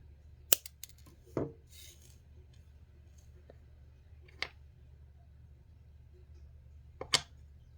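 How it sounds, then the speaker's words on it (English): Jewelry wrapping material for a cabochon wrap is trimmed with scissors: four or five sharp, isolated snips spaced irregularly against a quiet room background. "I think I'm going to snip it even smaller still."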